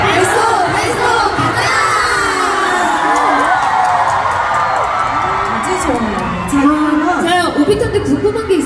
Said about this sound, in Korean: Vamos a contar hasta tres y lo vamos a gritar todos juntos.